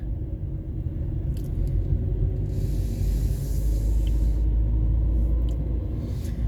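Inside a moving car, a steady low road rumble drones on with faint airy hiss above it, constant and close throughout, with no talking.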